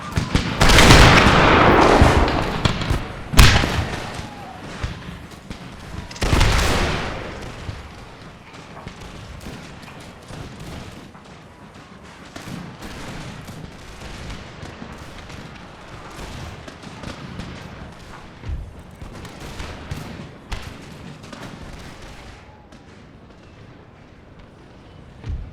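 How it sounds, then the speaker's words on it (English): Musket volleys from massed troops in the video game Empire: Total War, several loud crackling fusillades early on, then scattered distant shots and rumbling battle noise that continue more faintly. "I like the way the firing is on these troops"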